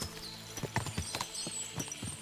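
Many horses in the video game Kingdom Come Deliverance II clop along, hooves beating out a busy, overlapping clip-clop rhythm at moderate distance.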